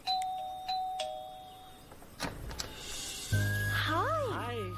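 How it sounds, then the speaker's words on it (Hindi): Two quick electronic doorbell chimes ring out clear at the start, followed by thumps, a swooping whistle-like tone and a low steady drone, with a voice speaking in between. "छलांग लगा के डोरबेल दबा।"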